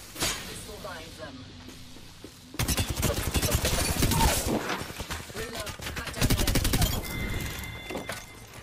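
Heavy automatic gunfire in the video game Apex Legends, a long sustained fusillade of rapid shots with brief pauses, loud and close, with a player's voice and in-game callouts mixed in.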